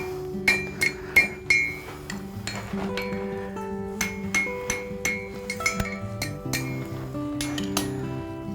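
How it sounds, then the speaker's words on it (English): A blacksmith hammers a hot iron hook on an anvil at a heritage village forge, sharp ringing metallic strikes in irregular bursts, some doubled, with the anvil's ring sustaining between blows. "I'm isolating that curl I did on it so that I can hammer on it and not damage it."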